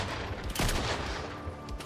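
Long-range pistol fire in the Fortnite video game, a dense burst of sharp reports near the middle amid continuous game noise, fairly loud and with no talk over it.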